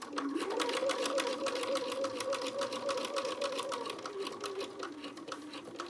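Sewing machine running steadily while stitching binding onto a quilted jacket hood, a continuous close whir with rapid needle clatter, slowing and changing pitch near the end.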